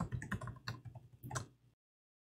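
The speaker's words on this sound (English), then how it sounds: "type in my super secret password" Close keyboard typing on a computer while entering a password, a quick run of crisp clicking keystrokes lasting under two seconds, alone without talk.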